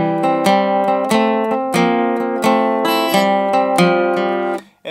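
A guitar plays the C part of a song in a changed timing, with about seven evenly spaced, ringing plucked chords and notes, close and clear, and no voice.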